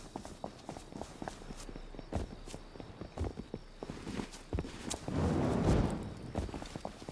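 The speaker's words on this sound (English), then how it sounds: "You hear their footsteps?" Footsteps of other players in the survival video game Rust, a steady run of soft, quick thuds at mid distance with a louder rustling stretch near the end.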